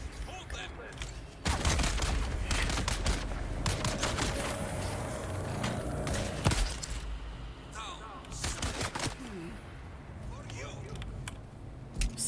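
Gunfire in Dune Awakening: clusters of sharp shots and bursts in several volleys, loud and close, separated by quieter gaps, with someone talking during the fighting.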